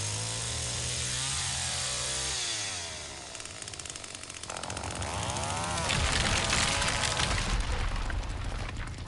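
In the horror video game Texas Chain Saw Massacre, a chainsaw revs loudly and continuously, its engine pitch rising and falling in sweeping surges with no talk.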